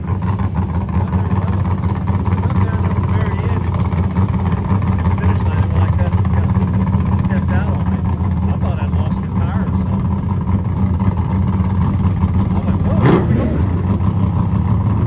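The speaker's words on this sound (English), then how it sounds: "Sounded like you got into the rev limiter a couple of times." A racing car engine drones loud and steady at high revs throughout, heard close from inside, with a brief sharp burst near the end.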